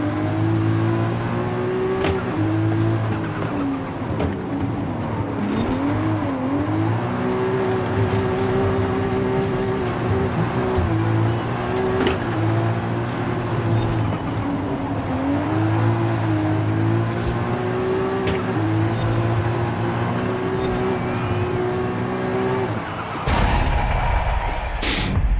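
A racing car's engine in Forza Horizon 5's winter season drones loudly and steadily, its pitch rising and dipping through gear changes and throttle shifts, then breaks off abruptly near the end.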